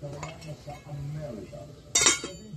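A metal lid set onto a cooking pot for fish kinamatisang, a single sharp clatter near the end after a low steady simmer hum with faint background voices.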